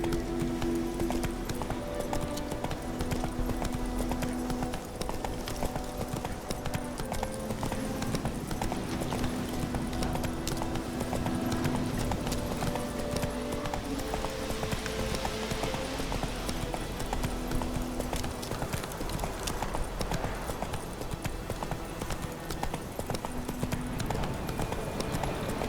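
Horse galloping in The Witcher 3, a rapid, steady clip-clop of hooves that carries on for the whole stretch at close range, with game music and ambience beneath.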